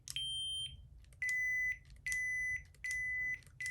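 A series of sustained electronic lightsaber volume-menu beeps, each held about half a second, with the pitch shifting lower and then higher between tones, no talking.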